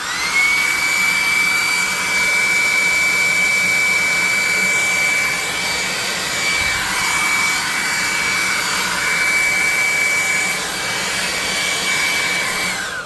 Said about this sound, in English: Let's hit it with the hairdryer though.